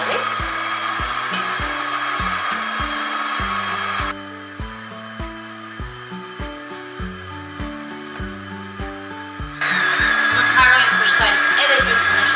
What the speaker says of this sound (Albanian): Pas disa minutash që brumin e kemi rahur tek mikseri